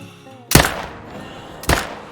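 Two loud hunting rifle shots in the game theHunter: Call of the Wild, each a sharp blast with a short rolling echo, about a second apart.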